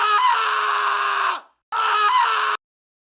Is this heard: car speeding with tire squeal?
no